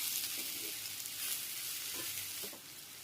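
Ridge gourd pieces and green chillies tossed with turmeric in a hot pan, giving a steady low sizzle with a few soft scraping stirs, no voices.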